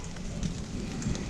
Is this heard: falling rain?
yes